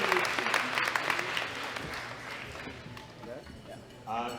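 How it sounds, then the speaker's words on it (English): Audience applause at a world classic powerlifting championship, a crowd clapping steadily under an announcer's voice, fading somewhat toward the end. "Round of applause, ladies and gentlemen"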